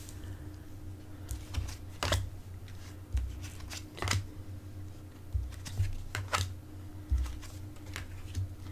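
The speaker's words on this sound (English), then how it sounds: "I shuffled the cards off camera, but I did them a few times on camera" Several bursts of tarot cards being shuffled, crisp riffling and soft slaps spaced a second or two apart, quiet and close.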